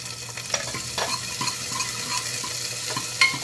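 Chopped onion frying in oil in a pan for a cauliflower, potato and pea curry gives a steady close sizzle, broken by a few sharp clinks and scrapes of stirring, with no talk.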